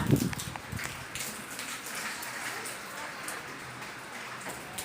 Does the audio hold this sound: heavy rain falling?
yes